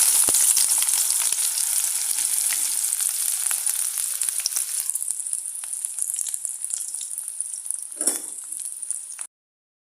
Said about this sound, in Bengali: তো তেলটা গরম হয়ে গেছে এখন আমি পেঁয়াজটা দিয়ে দিই